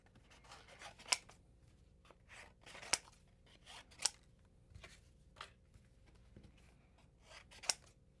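Scissors cut out small paper pieces nearby, giving quiet rustling snips with a few sharper, distinct closing clicks spaced irregularly over the quiet background.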